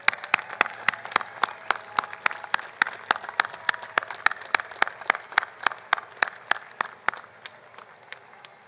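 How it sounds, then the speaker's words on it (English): Steady, rhythmic hand clapping from a crowd of parade spectators at an Armed Forces Day parade in Torrance, sharp claps in a regular beat for about seven seconds before fading out. "Give them a round of applause, folks"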